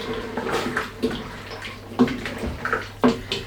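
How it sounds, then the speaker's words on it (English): Two tins of chopped tomatoes are tipped into a roasted red pepper and tomato soup and stirred, giving soft wet sloshing with a few louder spoon knocks about once a second, close by and quiet. "we're going to add in our 2 tins of chopped tomatoes. They can just go straight in and then stir around."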